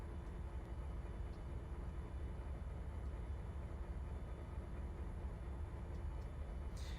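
Locomotive in Trainz Simulator 3, a reskin of a default ST4-2 or GB4-2 heard from the cab, giving a steady low rumble and drone that holds even and unbroken throughout.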